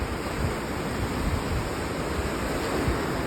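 Ocean waves roll onto rocks along a shore, producing a steady, loud wash of broadband surf noise with gentle low surges and no voices.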